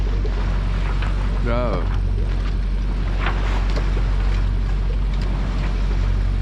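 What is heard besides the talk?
sailboat motoring out with little wind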